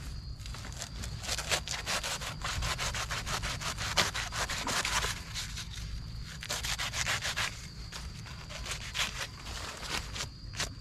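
Blade cutting and carving through the fibrous root system of a leftover banana plant, a steady run of rough rubbing, sawing strokes close up, continuous for the whole stretch with brief uneven pauses.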